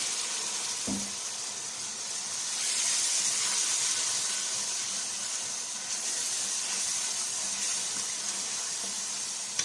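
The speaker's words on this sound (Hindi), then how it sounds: "इसके अंदर आप थोड़ा सा पानी डालेंगे" Water poured into a cooking pot while making chicken white pulao, a steady hissing, splashing flow that starts with a brief clunk and runs on evenly, close and fairly loud with no talking.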